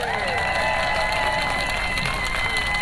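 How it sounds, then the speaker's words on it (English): A rally crowd claps and cheers for an organizer about to speak, a steady wall of applause with some shouts, continuous and close for a few seconds. "Let's give him a big hand of applause."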